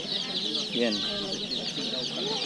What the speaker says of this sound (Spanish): Venden pollitos aquí